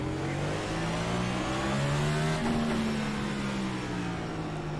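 Race car engine in the iRacing NASCAR Cup Series sim at the LA Clash, a loud continuous roar with rising and shifting engine tones as the field accelerates to the green, steady and close throughout.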